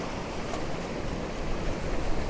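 Steady, loud ocean surf roars against a rocky coast with serious rocks and distant cliffs, mixed with wind rumble across the microphone and no voices.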